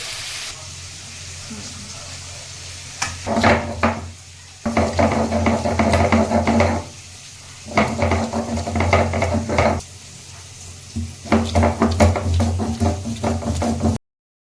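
Potatoes with salt and turmeric fry in a pan, sizzling continuously while a utensil stirs them in repeated loud scraping bursts separated by short quieter stretches.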